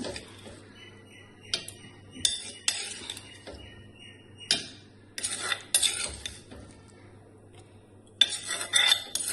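Sautéed mango is spooned from a pan into a mixer jar, giving sharp irregular clinks and scrapes of metal utensil against steel, close and isolated with quiet gaps between.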